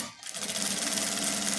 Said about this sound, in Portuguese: fazendo a costura reta